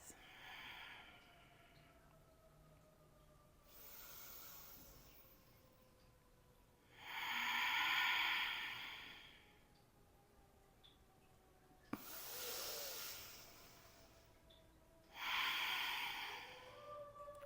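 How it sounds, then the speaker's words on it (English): Slow, deep breaths during a yoga flow, each long airy inhale and exhale rising and fading in turn, close and fairly soft, with a faint steady hum underneath. "listen to your breath"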